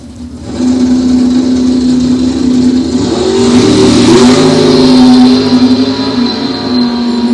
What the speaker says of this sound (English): We got a 62 Chevy, a 56 Chevy, and a 68 Chevy,